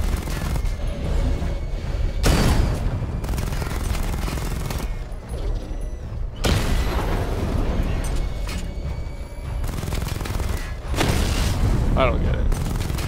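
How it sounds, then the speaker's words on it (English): Missile barrage explosions in Batman: Arkham Knight thunder from the Batmobile, with loud, rolling booms and bursts of rapid gunfire repeating every few seconds over a dense, continuous roar of battle. "Destroy targets to charge up weapon energy and activate missile barrage."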